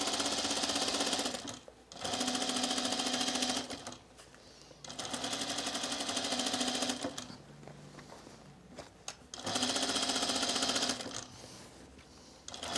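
A domestic sewing machine stitches a dress in several bursts of rapid, even needle chatter. Short pauses separate the runs, and the machine sounds close and fairly loud.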